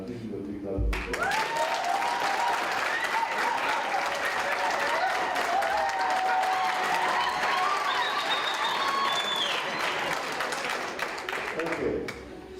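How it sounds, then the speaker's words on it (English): A room of guests at a breakfast business event gives sustained applause for over ten seconds, broad even clapping with scattered voices and a cheer beneath, fading at the end. "please, give you a big round of applause"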